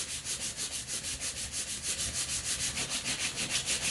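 A piece of wood is rubbed firmly back and forth to smooth it, making a quick, even run of scraping strokes, several per second. The sound is soft but close, and no one speaks.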